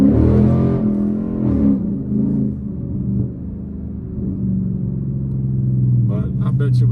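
A 2017 Ford Mustang GT with the Coyote 5.0 V8 and a full MBRP exhaust idles with a deep, steady rumble, close and fairly loud, with brief engine swells and a little talk over it.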